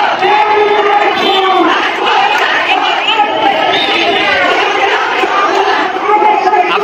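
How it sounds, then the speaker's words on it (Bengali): Protesters chant slogans in unison at Karwan Bazar, Dhaka, a loud, dense crowd roar with rhythmic shouted phrases rising and falling steadily throughout, voices massed close together. "আন্দোলনকারীদের স্লোগানে প্রকম্পিত হচ্ছে কাউরান বাজার"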